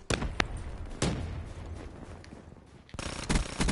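Call of Duty gunfire in rapid close bursts, loud sharp cracks clustered at the start and again near the end, with a dull lull between them and no talk.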